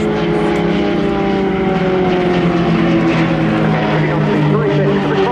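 A propeller aerobatic plane of the Royal Jordanian Falcons dives in at an air show, its engine a loud, steady droning buzz with strong harmonic tones, near and sustained for a few seconds.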